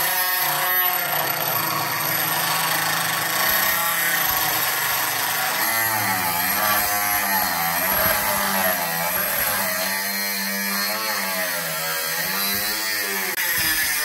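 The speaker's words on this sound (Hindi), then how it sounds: "अब चलिए इस लोहे की सीट को काटते हैं।" A homemade rechargeable angle grinder driven by a 775 DC motor cutting an iron sheet, a loud continuous whining buzz with pitch wobbling as the disc bites into the metal, close and unbroken.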